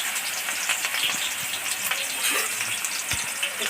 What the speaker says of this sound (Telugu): సన్నగా దొరుకున్నటువంటి 4 ఉల్లిపాయలండి వేపుకోవాలి